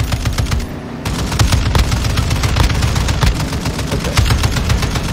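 Rapid, loud bursts of automatic gunfire in the Call of Duty DMZ mode, shots cracking in a dense, continuous rhythm with no pauses, close and dominant throughout.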